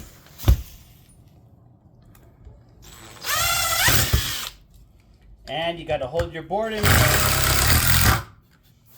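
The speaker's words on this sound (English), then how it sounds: "you can hear this drill hammering because that's an impact gun" Bursts of an impact driver whir and hammer a screw into a board in short runs, close and loud, with a person speaking briefly between them.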